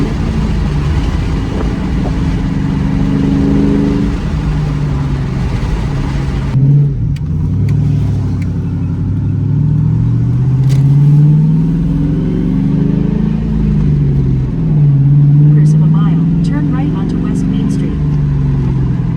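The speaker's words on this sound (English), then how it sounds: "is to hear the car without cats." A New Edge Ford Mustang GT V8 with a catless X-pipe exhaust rumbles steadily at low pitch as the car drives, the drone swelling with light throttle changes and staying loud and close throughout.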